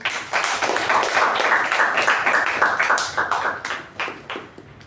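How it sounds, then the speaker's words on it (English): Applause from a Toastmasters club meeting audience, a steady dense patter of many hands clapping for about five seconds before thinning out toward the end. "let's give a huge round of applause to our TAPG team"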